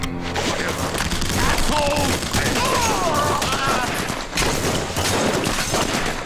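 Sustained gunfire from The Punisher video game, dense overlapping shots and bursts with crashes, loud and continuous for the whole stretch.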